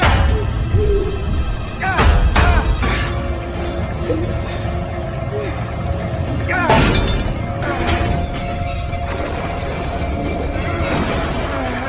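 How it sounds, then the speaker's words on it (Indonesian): A large gear slams into a glass box and the glass shatters. Several loud crashes and breaking impacts cut through a dense, noisy background. "segera mengambil dan menghantamkannya ke kotak kaca tersebut"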